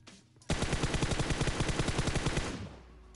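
Automatic gunfire from the mobile battle-royale game PUBG Mobile: a loud, rapid, evenly spaced burst of shots lasting about two seconds, starting abruptly and tapering off, with no talking.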